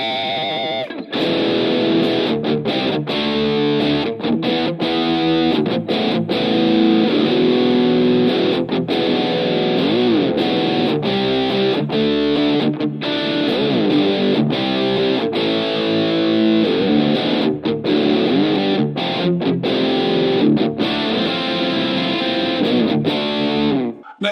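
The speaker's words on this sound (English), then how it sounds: "Next is Dark Soul, which is an SLO 100 with a gate, a drive," Electric guitar played through the Dark Soul preset on a Positive Grid Spark Go amp, modeled on an SLO 100 with a gate, drive and reverb: a heavily distorted, dense riff playing steadily and loudly for the whole stretch, with brief gated cutoffs.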